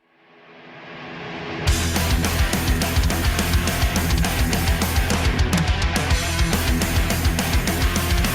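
A heavy metal song intro plays back from a recording, swelling up from near silence before driving guitars and pounding drums kick in loud and continue steadily.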